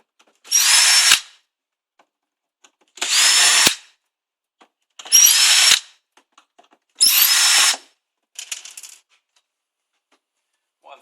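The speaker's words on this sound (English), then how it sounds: "Just using the Phillips head driver." Power driver with a Phillips bit backing out screws from the front panel of a chromatolyzer analyser, four even whirring bursts of about a second each separated by silence, then a shorter, rattly fifth, close and loud with no talk.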